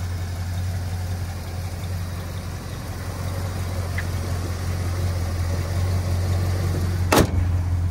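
A 1979 Dodge Magnum sits idling smoothly, its engine giving off a steady, even low rumble up close, with one brief sharp knock near the end and no voices.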